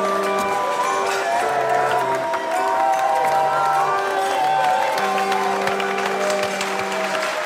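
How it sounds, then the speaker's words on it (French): A whole brasserie dining room bursts into sustained applause for a birthday, dense clapping and crowd cheering filling the room steadily from start to finish while a barrel organ plays a tune underneath. "et toute la salle applaudit"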